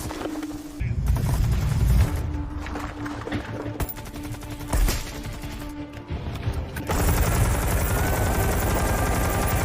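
Gunfire in a sniper war film, with bursts of rapid automatic fire and scattered single shots among loud crashes, changing abruptly between loud and quieter stretches, with a voice speaking over part of the sequence.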